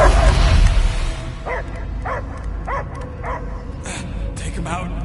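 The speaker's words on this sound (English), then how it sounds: "I hear only barking" A dog barks in repeated short yips and whimpers, about eight evenly spaced barks over a dense, rumbling action-game soundtrack with voices, in a Guardians of the Galaxy scene.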